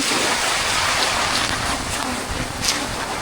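Strong wind and heavy rain sweep across the sea by an island, a loud, steady roaring hiss of gusts and downpour that swells briefly near the end, with no one talking.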